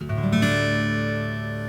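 A single open guitar strum in DADGAD tuning rings out, its chord sustaining and slowly fading over a couple of seconds.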